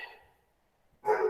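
Barking from the speaker's pet dogs at home breaks in suddenly near the end, loud and close, after a faint quiet stretch.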